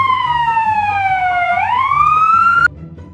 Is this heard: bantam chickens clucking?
no